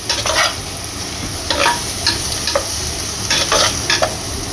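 Onions with turmeric powder stirred in a hot pan, a spatula scraping in repeated strokes over a steady, close sizzle of frying with no talk.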